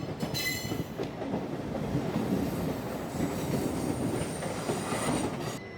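An express train running the Chennai Egmore route passes close by, a steady loud rumble of rolling wagons with rail clatter and brief high wheel squeal near the start, with no talk.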